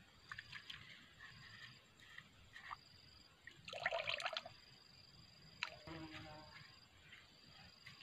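Liquid organic fertilizer being stirred by hand in a container for oil palm trees, gentle close sloshing and trickling water with a brief louder splash in the middle, quiet overall and no talk.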